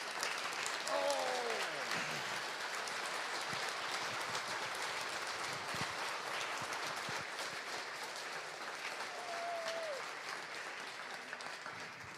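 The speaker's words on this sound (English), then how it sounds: "Would you give Tommie Harris a huge Oklahoma Sooner round of applause?" Faint, steady applause from a gala audience fills the room at a distance, with brief voices rising over it near the start and again later.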